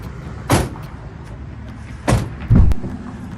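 Roll-off window screens being pulled shut inside a Pleasure Way Plateau TS camper van on a Mercedes Sprinter chassis, giving three short rolling thuds spaced over a few seconds, close by, with no talking.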